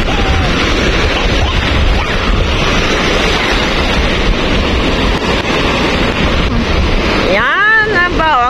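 Strong wind and high surf pound a beach in a continuous loud roar, with crashing waves and gusts buffeting the microphone. A voice rises briefly near the end.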